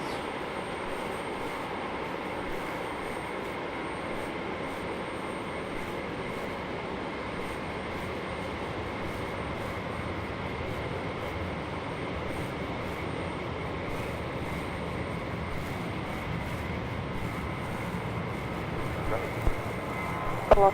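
A Velocity airliner on short final from Melbourne lands at Brisbane Airport, heard as a steady distant jet roar with a broad continuous rumble that swells slightly toward the end.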